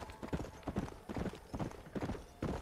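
A horse ridden straight through town in Red Dead Redemption, its hooves clip-clopping in a quick, even gallop rhythm, soft and steady with no voices over it.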